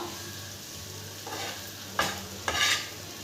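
Squid (kanava) tava fry with onion and tomato being stirred and turned in a pan, with a continuous close sizzle and a few sharp scraping strokes of the spatula toward the end.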